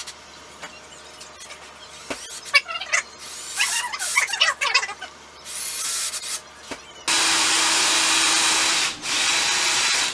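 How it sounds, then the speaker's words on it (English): A power drill drilling a hole in a belt for the buckle whines and squeals in bursts, then runs loud and steady for several seconds before briefly cutting out and resuming. "you need to drill the actual belt loop hole for the buckle"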